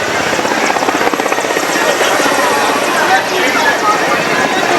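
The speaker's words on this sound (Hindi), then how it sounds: "देखिए ये उतर चुका है पहला हेलीकॉप्टर" A helicopter carrying a politician's party lands beside an expressway in Unnao, its rotor thumping loud and steady with a throbbing pulse throughout, while someone talks over it.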